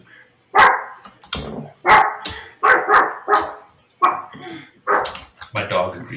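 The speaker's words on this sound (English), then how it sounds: "My dog agrees." A small dog yaps in sharp, repeated barks, about eight bursts spaced through the stretch, close and loud, likely with voices nearby.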